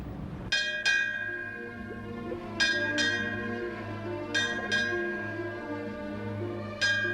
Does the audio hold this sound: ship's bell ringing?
yes